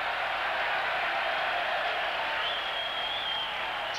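A cricket crowd applauding a tail-end batsman hitting out against the West Indies, a steady wash of distant clapping from a large stand that holds even for four seconds, with no talking.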